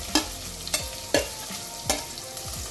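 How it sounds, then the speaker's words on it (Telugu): Onions frying in a pan after lentils have been toasted, for spicy cabbage, with steady sizzle and about five sharp spatula scrapes and knocks at a regular pace, close and alone. "దీంట్లోకి మనం ఫస్ట్ ఆనియన్స్ని ఫ్రై చేసుకుందాం"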